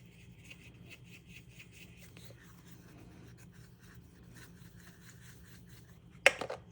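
A paintbrush swishes water across paper for a die-cut ink craft, soft rhythmic brushing strokes, faint and close, ending with a brief louder knock.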